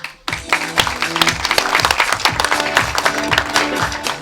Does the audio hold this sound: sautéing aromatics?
no